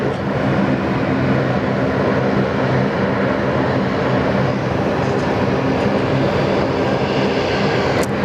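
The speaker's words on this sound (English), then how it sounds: "Korean about to roll now on runway 34 left, heading back to Seoul." Korean Air airliner beginning its takeoff roll on runway 34 left at Sydney Airport, a loud continuous broadband engine roar holding steady throughout, heard from the spotting position without talk.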